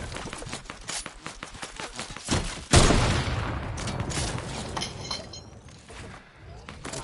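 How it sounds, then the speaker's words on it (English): Rapid bursts of video game gunfire from players shooting near metal structures, dense repeated shots that swell into a louder barrage midway, then a continuing clatter of fire fading slightly toward the end. "From those metal builds right there, they're shooting."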